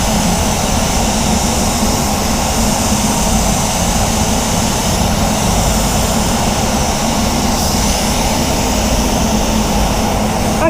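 Spray gun laying clear coat on a BMW 323i, a loud, steady hiss of compressed air and atomized paint running unbroken and close throughout.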